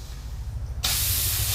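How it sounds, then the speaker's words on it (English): Air chuck pressed onto a Ford 5610 tractor front tire, a quiet low idle suddenly giving way to a loud, steady rush of hissing air that continues to the end. "I have another air chuck that'll hook to a bigger diameter hose so that it will put a little bit more air in here."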